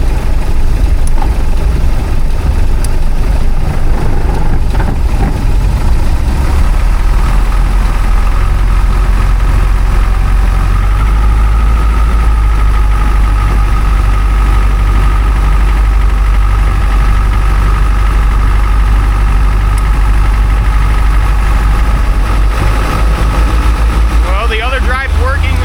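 A rebuilt classic boat engine, brought back from a dead state, runs steadily at a loud, continuous drone with a heavy low rumble, its revs lifting slightly as it carries on; a voice speaks briefly over it.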